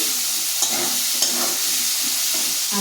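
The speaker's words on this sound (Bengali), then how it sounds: "আলুটা ভাজা হোক" Potatoes frying in a pan, a steady close hiss of sizzling oil running throughout with a few faint clinks of stirring and no talk.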